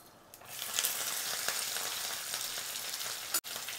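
Mustard seeds, dried chillies and curry leaves frying in hot oil give a steady, close crackling sizzle that holds throughout, with one brief dropout near the end.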